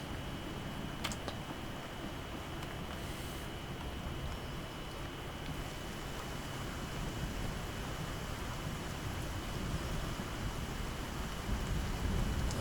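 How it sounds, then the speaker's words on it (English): Rain falling outside in the survival video game Icarus, a steady soft hiss of rainfall with faint rumbles, heard from under shelter at a constant low level. "Sunny and rainy."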